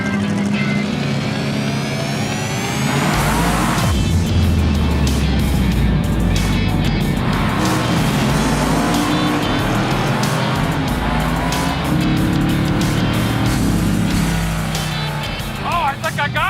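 Gasser Chevy cars street racing roar loudly with engines revving hard and tires spinning and squealing throughout, a sustained close wall of engine and tire noise with people talking over it.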